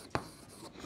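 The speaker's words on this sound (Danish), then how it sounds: "Det skriver jeg lige formlen for med det samme." A single short scratch of pen on paper while the formula for magnesium chloride is written by hand, quiet and close, with no talking.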